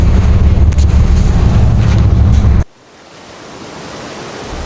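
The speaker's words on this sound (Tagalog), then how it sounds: "Ang lakas ng alon, ayan." Strong ocean waves roar loudly and steadily around a ship's deck near the forecastle, then cut off abruptly to a quieter rushing hiss of sea and wind.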